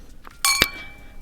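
Two bright glass clinks in a toast at a birthday seafood meal, the second ringing a little longer, close and clear over a quiet room.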